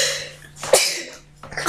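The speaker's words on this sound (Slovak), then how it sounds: "takže druhé kýchnutie tiež za sebou" A person sneezes once, a short sharp burst in the middle of the pause, framed by quieter breathy sounds and a faint steady hum close to the microphone.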